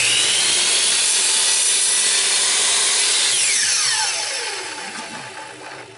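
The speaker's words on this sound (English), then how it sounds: "I'm cutting down the pieces of it on my miter saw here" A miter saw cutting picture frame molding: a loud, close, high whine through one continuous cut that then winds down as the blade spins to a stop.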